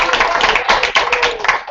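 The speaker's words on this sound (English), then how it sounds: "Why don't we thank her with a round of applause?" Audience applause after a talk, brisk close clapping from a modest group, loud and continuous for a couple of seconds with a voice briefly over it.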